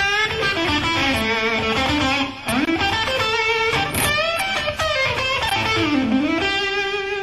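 Electric guitar runs through a bluesy pentatonic scale in A with bends, finger vibrato and slides, notes ringing out with a slightly overdriven, effected tone.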